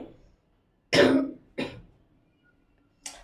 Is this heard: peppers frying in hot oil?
no